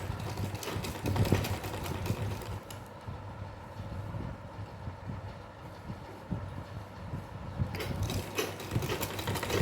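A sewing machine stitches lace onto a small doll's dress, a steady mechanical rattle running almost the whole time, with a quieter stretch in the middle before the whirring rises again.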